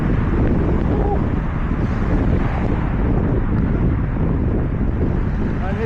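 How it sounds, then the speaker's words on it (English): Strong headwind buffets the microphone while riding a bicycle home past village houses, a loud, constant roaring rumble with no break. "Still riding against the wind."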